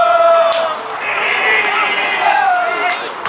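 Home crowd behind the goal at a Bedford Town versus Kidlington non-league football match, applauding and singing in a steady, loud swell of voices, with a commentator talking over it.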